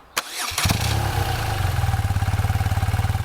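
A BMW R 12 NineT boxer-engine motorcycle cranks and catches, then settles into a loud, steady idle with a rhythmic lumpy pulse, close by.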